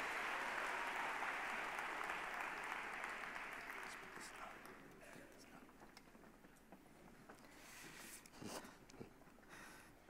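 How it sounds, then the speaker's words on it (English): An audience at a church gathering applauds steadily, a dense wash of clapping that is loud at first and gradually thins, with some voices and scattered claps mixed in toward the end. "Give these guys a great round of applause also."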